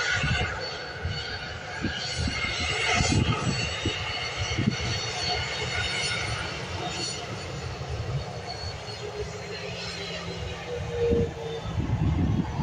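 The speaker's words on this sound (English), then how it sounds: "we have XZ885, this Hello Jets Boeing 737 heading over to Toulouse" A Hello Jets Boeing 737 departs an airport bound for Toulouse, its jet engines producing a steady, rumbling roar at a distance that swells slightly and holds throughout.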